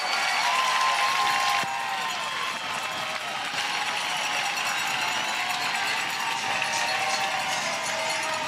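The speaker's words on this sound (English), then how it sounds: "And the hometown crowd loves it." Home crowd at a professional softball game cheering after a run scores, a broad continuous roar of voices and clapping filling the stands, loud and steady throughout with a brief tonal whistle-like sound near the start.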